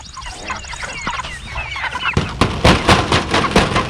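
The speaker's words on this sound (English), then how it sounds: "Come on, chickens." Six-week-old meat chickens cluck and squawk close by in a busy flock, with a run of sharp, rapid calls and knocks toward the end.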